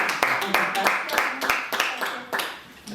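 Applause for citizens attending a municipal council meeting, a short burst of scattered hand claps from a modest audience in a meeting room.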